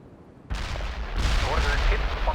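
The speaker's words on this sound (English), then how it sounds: "I have incoming mortars!" Incoming mortar fire in the World in Conflict game, Soviet assault mission: a sudden loud blast breaks in, then heavy booming and rumbling impacts build and roll on, with faint voice-like sounds under the barrage.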